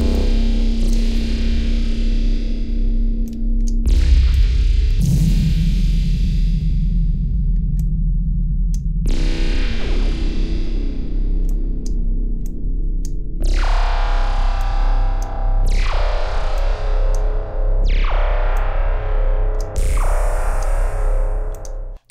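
KHS Convolver effect with stretched frequency bands processing a distorted, reverberant synth sound, a series of loud swelling hits and sustained tones that decay into one another.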